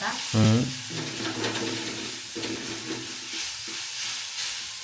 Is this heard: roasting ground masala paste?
yes